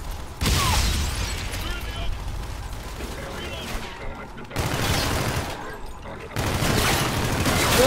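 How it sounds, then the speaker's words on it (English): Grenade blasts in a shooter game land in three loud bursts, each a broad rumbling crash that decays into noisy debris, separated by short quieter gaps. "I'm throwing grenades everywhere."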